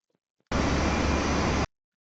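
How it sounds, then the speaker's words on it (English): A brief burst of steady small-plane engine drone from the GeoFS flight simulator, lasting about a second, starting and stopping abruptly, with near silence around it. "That's the sound of the plane, by the way."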